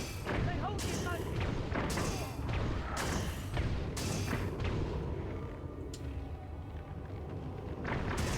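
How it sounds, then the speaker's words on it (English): Shots strike the player in Dragon's Dogma: Dark Arisen, landing as sharp, heavy impacts roughly once a second over dense, noisy combat. "Who's shooting me?"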